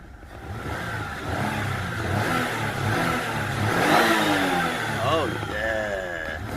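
A Jaguar X-Type engine, just back running after a fuel pump replacement, idles and revs in a few rising and falling pulls, with someone talking over the running engine.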